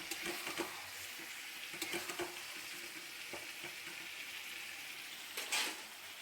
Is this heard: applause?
no